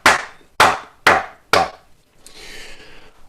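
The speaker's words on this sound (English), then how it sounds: "The two sticks that are played together that play a rhythm" Wooden clave sticks struck together in a five-beat Afro-Cuban clave phrase, four sharp dry clicks heard here at close range, followed by a faint hiss.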